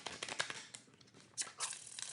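Tarot cards are shuffled during a card reading: soft, papery riffles and crinkles come in short irregular bursts, quiet and close, with no talking.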